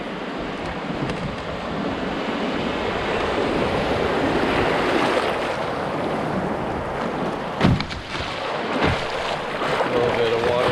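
Canoe on a river nearing class 1 rapids, a continuous broad rush of moving water with wind noise across the microphone, steady and close, with a couple of sharp knocks partway through.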